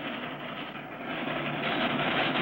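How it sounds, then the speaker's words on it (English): A little train rolling across a high railway bridge, a steady, loud mechanical rumble and rattle that stays even and grows slightly louder toward the end, with no voices. "As the little train starts across the bridge, were Clutch and Company blown to bits?"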